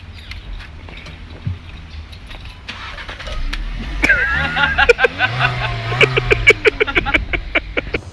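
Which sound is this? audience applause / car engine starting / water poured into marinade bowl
car engine starting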